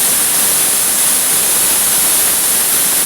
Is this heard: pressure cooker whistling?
yes